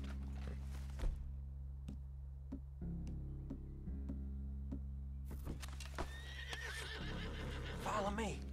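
A horse whinnies loudly near the end, after scattered hoof clops and thuds over a steady low hum, with faint voices in the background, in the video game Red Dead Redemption 2.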